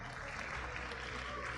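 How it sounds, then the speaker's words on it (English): Audience at an esports watch party applauding a Mobile Legends team's final bow, a steady, moderately distant clapping wash with the crowd mixed in, throughout the short moment. "let us all give a round of applause as Keep Best Gaming give us their final bow"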